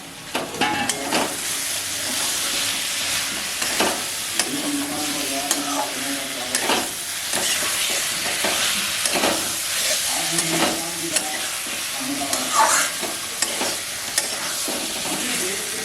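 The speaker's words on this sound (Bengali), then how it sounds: "মশলাটা কষাতে কষাতে আমি এই যে ভেজে রেখেছিলাম যে ওলকচুগুলো, এগুলোকেও দিয়ে একসাথে কষাবো।" Elephant foot yam pieces being stir-fried with masala in a pan, a steady sizzle with repeated scraping stir strokes throughout, close and fairly loud, with no talking.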